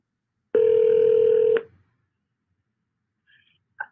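A telephone dialing a call gives one steady electronic tone lasting about a second, followed by a few brief, faint beeps near the end, with silence in between.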